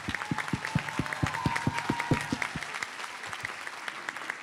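Audience members at a university fashion show clap in a steady, even beat for students, each sharp clap distinct, then the rhythm loosens into scattered clapping amid murmuring crowd noise.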